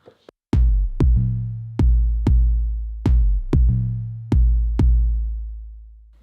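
Elektron Model:Cycles playing a sequenced pattern of eight loud, sharp synth hits with deep bass bodies, the step pitch shifting up and down between notes, each decaying quickly; two faint clicks precede the first hit.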